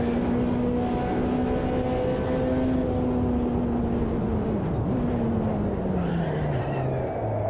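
Ferrari F512 BB LM race car in Automobilista 2, its engine holding a loud, steady sustained drone with a pitch that sags and dips toward the end, continuous throughout with no talk.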